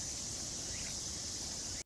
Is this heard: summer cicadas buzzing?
yes